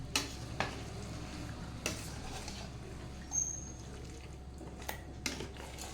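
Stirring a batch of mango pickle with ginger and garlic: a few soft, scattered scrapes and wet shuffles in a quiet room, with brief clicks spaced through a faint steady background.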